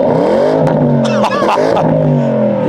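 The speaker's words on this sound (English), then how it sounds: "that's what a Porsche should sound like" Panamera GTS V8 revved hard in neutral in Sport Plus mode with no soft limiter, a loud, close, sustained roar with sharp crackling pops and brief dips between pulls.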